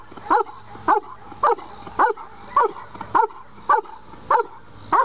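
A dog barking loudly and close in a steady series of about ten sharp barks, evenly spaced roughly half a second apart, with no talking over it.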